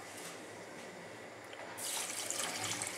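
Water poured onto barley semolina in a bowl, a steady close splashing pour that swells louder partway through, with no talking over it.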